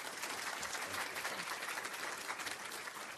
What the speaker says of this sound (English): Will you applaud them and welcome them as they come?